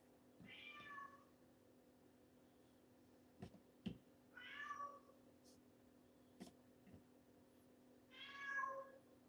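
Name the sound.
cat meowing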